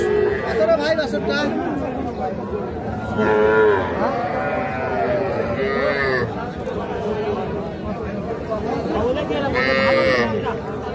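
Cattle, including a young Sahiwal bull, moo several times amid a crowd of chattering voices at a busy outdoor cattle market.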